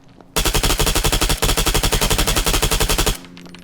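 Rapid automatic fire from an MP7 PDW in the military shooter Arma 3, loud and close, in one continuous burst of tightly spaced shots lasting about three seconds, with no voices.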